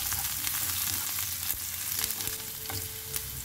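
Ginger and garlic sautéing in hot oil in a pan, a close, steady crackling sizzle with light stirring clicks, no voices.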